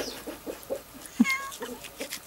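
A small kitten meows on a farm where a pig's head is being prepared, giving a few thin, short cries close by amid faint background shuffling.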